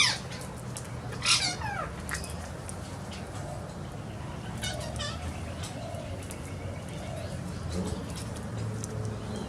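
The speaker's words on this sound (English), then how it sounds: "Two of our young sulphur crested cockatoo visitors" Young sulphur-crested cockatoos feeding on corn outdoors, giving a few raspy squawks and chatter over a steady background of other birds and low rumble, moderately close but not loud.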